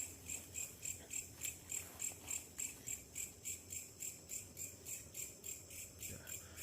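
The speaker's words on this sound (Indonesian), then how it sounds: "terdengar suara binatang malam ya, seperti jangkrik dan yang lainnya" Crickets chirp at night in a steady, evenly pulsed rhythm, faint and continuous, with no voices.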